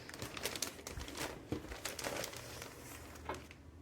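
Sheets from a watercolor paper sampler crinkle and rustle as they are handled and flipped, a steady papery crackle close by with no talking.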